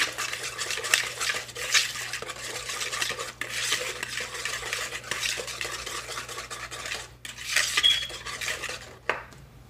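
Packed brown sugar being stirred into a pumpkin cinnamon roll filling in a bowl, a steady run of close scraping and clinking of a utensil against the dish, continuous for several seconds with no talking.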